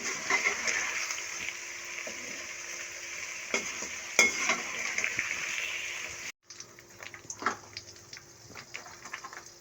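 Okra (bhindi) frying in a pan, a continuous close crackling sizzle with occasional spatula scrapes and clinks, briefly cutting out before the hissing and stirring resume more sparsely, no voices.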